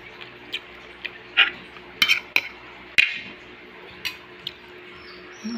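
A meal eaten with a spoon and bare hands at lunch: sparse, close clinks and taps of a spoon on a plate, scattered irregularly over quiet room tone, no talk.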